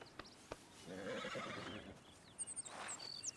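A horse in the video game Red Dead Redemption 2 gives one clear neigh lasting about a second, followed by a few soft hoof clops and a breathy snort, fairly quiet and without speech.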